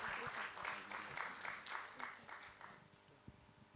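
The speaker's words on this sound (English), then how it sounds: "Round of applause," Scattered clapping from an audience, a steady patter of many hands that tapers off toward the end.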